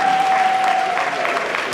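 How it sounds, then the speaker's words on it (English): Applause from an audience at a comedy show, a dense steady wash of clapping that fills the moment with a faint whistle at the start. "A round of applause for Julius, the genius."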